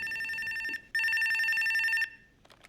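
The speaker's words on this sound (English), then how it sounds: "everything is going swell until the big boss man calls Mike on the hospital phone." A telephone rings twice in a hospital room in a movie scene, with loud, steady bell trills separated by a short gap and then cut off.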